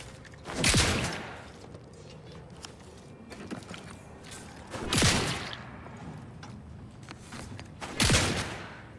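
Shotgun fire in The Outer Worlds 2, three loud booming blasts spaced about four seconds apart, each with a short decaying tail, and faint mechanical clicks and movement between shots.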